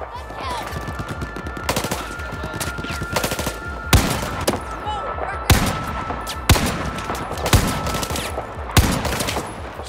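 Heavy bursts of gunfire, including booming M82 sniper rifle shots, crack out loudly and at irregular intervals across a Battlefield 4 battlefield in the Kunlun Mountains, with distant shooting filling the gaps.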